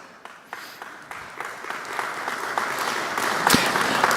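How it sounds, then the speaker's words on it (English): Audience applause at a county candidate forum for the 2024 general election, steady clapping from a roomful of people that swells gradually, with sharp individual claps standing out and one loud clap near the end. "All right, another round of applause."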